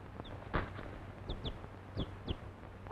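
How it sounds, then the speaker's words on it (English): A chicken gives a few short, scattered clucks over a steady low background hum, heard alone without voices. "A chicken?"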